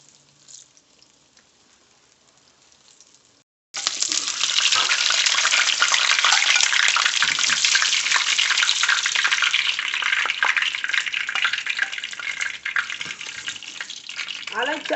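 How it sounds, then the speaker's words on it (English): Ripe plantains fry in a pan, a dense, loud crackling sizzle that begins abruptly after a quiet start and continues steadily with small pops and spatters. "So far, they've been frying for about 3 to 4 minutes."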